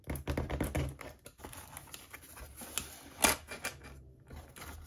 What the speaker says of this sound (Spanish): ahora vamos a abrir el paquete y vamos a ver qué contenidos tenemos dentro.